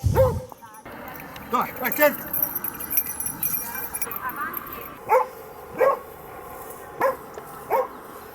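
Search and rescue dogs bark to alert their handler, first against background voices and jangling noise, then as several loud, spaced single barks near the end.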